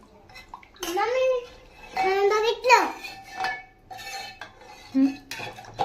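Ingredients for kokum saar are stirred together in a metal pot, with a spoon clinking and scraping in uneven bursts while people talk nearby.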